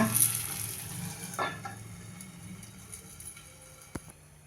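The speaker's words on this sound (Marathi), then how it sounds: "मिडियम गॅसवरती आपल्याला फ्राय करायचं आहे म्हणजे छान आतपर्यंत ते शिजून निघेल वरून थोडंसं तेल घालते आहे आणि झाकण ठेवूया" A vegetable pancake fries in oil in a covered pan over medium heat, giving a faint, steady sizzle with a few soft clicks and pops and no talking.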